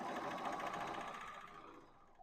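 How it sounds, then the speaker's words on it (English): A serger sewing machine whirs rapidly and steadily while stitching over a fabric edge during mending, close and fairly soft, winding down at the end. "I just serge that edge so that it will stay neat"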